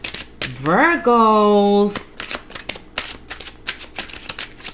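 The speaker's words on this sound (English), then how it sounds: "Let's give the cards a shuffle" Tarot cards are shuffled, a quick run of crisp, close, repeated flicks and clicks that follows a brief voiced sound, with someone speaking just before.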